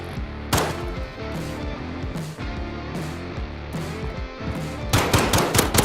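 Rapid video game gunfire in a competitive match, loud bursts of automatic shots repeating steadily, with a dense flurry of shots toward the end.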